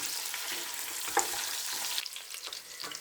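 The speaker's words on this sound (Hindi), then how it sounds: "तो हम इसे ऑयल में तब तक फ्राई करते हैं" Mutton sizzles steadily as it fries in hot oil in a pot for yakhni pulao, with a continuous broad crackle and a few louder spits and stirring scrapes.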